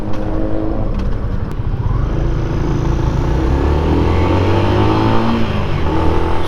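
A motorcycle fitted with a 415 sprocket and chain revs up toward top speed, a loud, close and steady engine drone holding throughout without pause.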